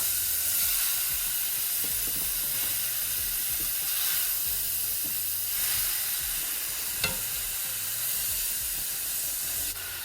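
Chili ingredients sizzle steadily as they brown in a pan, a continuous frying hiss with faint stirring scrapes and one brief sharp click, no voices.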